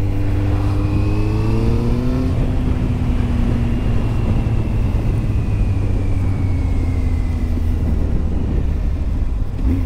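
Kawasaki Z750R motorcycle with an aftermarket silencer pulling in third gear at about 3000 rpm, a loud, steady, close engine drone that shifts pitch once early on and then holds an even throb throughout.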